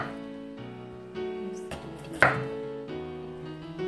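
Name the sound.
knife slicing carrots into very thin slices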